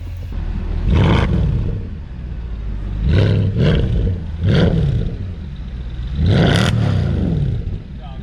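An AMG car fitted with a new aftermarket exhaust setup from Centerline Motorsports revs hard in several loud, close bursts, each rising and falling back to a rumbling idle, with a longer final rev near the end.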